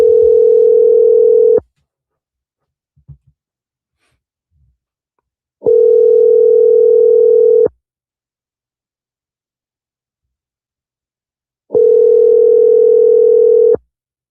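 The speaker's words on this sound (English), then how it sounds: "I'm calling you now. It's just ringing." An outgoing telephone call rings back with three loud, steady tone bursts about two seconds long, spaced by roughly four seconds of silence.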